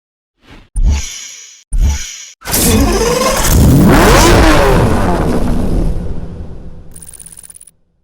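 Lamborghini Diablo V12 engine from Need for Speed Hot Pursuit Remastered: two short sharp revs, then a loud sustained acceleration with rising, sweeping pitch that fades away, ending with a brief high whine.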